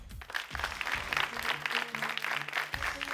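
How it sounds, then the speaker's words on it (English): Applause for the first-place winner of a Kenyan spelling bee, a steady wash of many hands clapping at moderate distance, with a few voices and sounds underneath. "Please, a round of applause."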